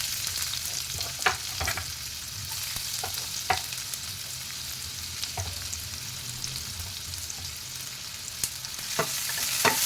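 Onion and cumin seeds frying in oil in a pan, a continuous close sizzle with scattered crackles and pops throughout.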